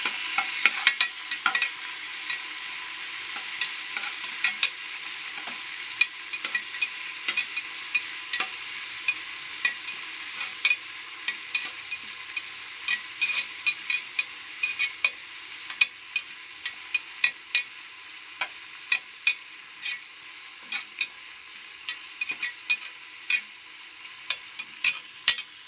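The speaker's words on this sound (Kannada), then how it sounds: "ಇದನ್ನು ಸ್ವಲ್ಪ ಹಾಕಿ ಲೋ ಫ್ಲೇಮ್ನಲ್ಲಿ ಹುರಿದುಕೊಳ್ಳಿ." Ingredients for village-style country chicken sambar fry on a low flame, giving a steady, bright sizzle throughout, broken by frequent light clicks and scrapes of stirring in the pan, with no talking.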